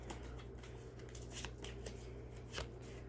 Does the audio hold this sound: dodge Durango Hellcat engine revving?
no